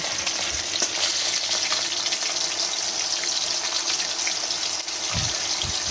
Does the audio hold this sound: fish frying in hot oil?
yes